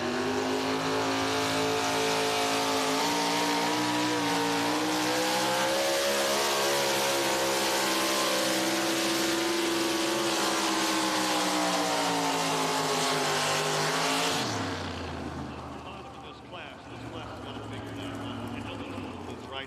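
A GMC pulling truck roars at an NTPA tractor pull in Tomah, Wisconsin, its loud, harmonic engine note wavering and climbing for about fourteen seconds before cutting abruptly to a lower, distant drone, with an announcer's voice likely in the mix.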